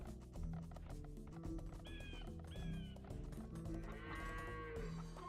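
Sheep bleating in a strategy video game, several short wavering bleats over a busy backdrop of game music and ambient farm noise, moderately loud.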